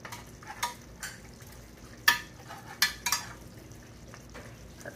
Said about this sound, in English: I'm going to take my ladle, and I'm gonna do 1 scoop on the bottom of my pan